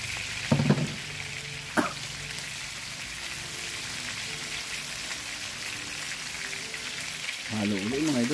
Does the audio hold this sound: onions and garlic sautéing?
yes